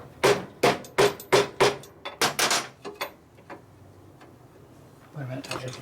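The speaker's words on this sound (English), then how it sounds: "Can you give me that plastic hammer over there?" A plastic hammer taps engine parts during a 1941 Harley WL flathead motor build, with about ten sharp, close, evenly spaced knocks in a quick burst, followed by quieter handling noises and low talk.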